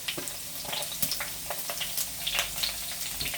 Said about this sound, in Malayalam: ഇഞ്ചി ഇട്ടതിന് ശേഷം നമുക്ക് വെളുത്തുള്ളി അരിഞ്ഞു വെച്ചിരിക്കുന്നത് ഇട്ട് കൊടുക്കാം